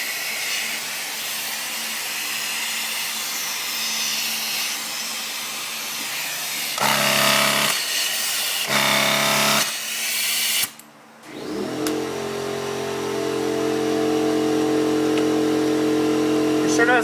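Compressed air hissing from a leaking fitting on an air gun in a garage, a steady loud hiss that surges in brief louder bursts, cuts out for a moment, then resumes with a lower-pitched hissing tone.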